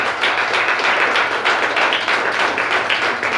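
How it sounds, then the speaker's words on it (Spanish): Congregation in a church clapping together in response to a call to applaud mothers, a steady dense patter of many hands filling the room without pause, loud and close, with no voices on top. "Regalen un fuerte aplauso a las mamás que les cuestan tanto."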